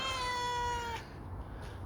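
A kitten in a playpen gives one clear, tonal meow lasting about a second, fairly close but quiet, followed by faint background hush.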